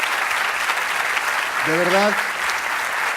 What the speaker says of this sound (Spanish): les quiero pedir para mi panel un fuerte aplauso por el talento mexicano y español que tenemos aquí